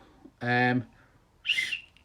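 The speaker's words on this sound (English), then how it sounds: "Seems to work reasonably well with a dried pea in there." Two short shrill blasts from a pea whistle, the first a steady buzzing tone and the second a higher trilling burst with a rattling warble, close and fairly loud.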